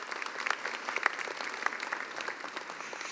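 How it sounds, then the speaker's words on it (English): Steady applause from a crowd at a UCLA doctoral hooding ceremony, a dense patter of clapping hands that continues evenly throughout. "If you could hold your applause until the end"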